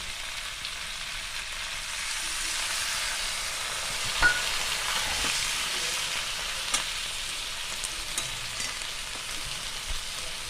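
Mixed vegetables frying in oil for a Bengali pach sabji, a small splash of water hitting the pan; steady close sizzle throughout with a few sharp spits and crackles, no voices.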